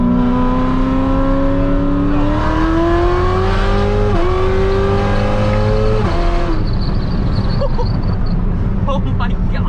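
A Corvette launches hard and accelerates through the gears, its loud engine climbing in rising pitch with brief drops at each shift before easing off, heard from inside the car.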